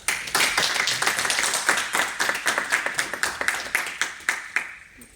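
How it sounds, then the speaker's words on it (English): An audience at the IEEE MILCOM 2025 conference gives a presenter a round of applause: distinct, fairly even hand claps in a brisk rhythm that thin out and fade near the end. "Let's thank Wayne again with a round of applause."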